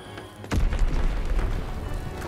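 A bomb blast in the World War II shooter Call of Duty WW2 erupts about half a second in, a sudden loud boom that settles into a sustained low rumble with faint background game noise.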